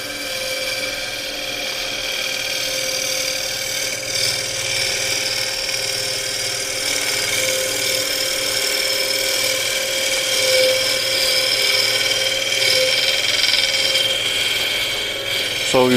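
A wood lathe spins steadily as a gouge works against the turning wood, producing a continuous rough, ratcheting scrape close by for the full stretch without pause.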